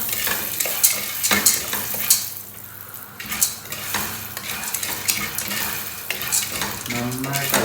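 Popcorn kernels are stirred in a pan over a medium flame, making a busy scraping and rattling against the metal with a soft sizzle. Intermittent clinks punctuate it, close and steady throughout.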